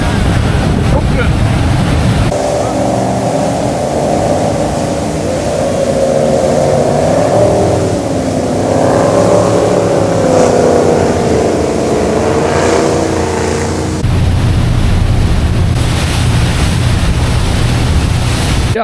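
A motorboat engine, heading to a poker run boat event, drones loudly and continuously, its pitch wavering up and down amid rushing wind and water noise.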